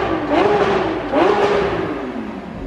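A Lamborghini Aventador SVJ engine revs sharply twice in close succession, each roar climbing and then dropping back, loud and close.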